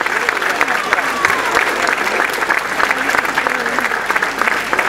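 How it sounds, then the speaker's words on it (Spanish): A festival concert audience applauds loudly for the Orquestra Marbella, dense rapid clapping that fills the space, with voices mixed in beneath. "Por eso quiero pedir para ellos un fuerte aplauso."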